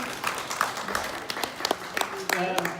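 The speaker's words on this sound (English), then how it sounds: "a round of applause" A round of applause at a memorial gathering, scattered individual claps popping out sharply over a murmur of voices as people talk nearby.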